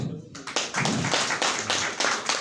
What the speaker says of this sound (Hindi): भाई के लिए ताली हो जाए।